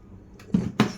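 Hard Oud Al Lyl perfume box from Dubai being pried open with a ruler, two short sharp knocks about a quarter second apart, close and moderately loud.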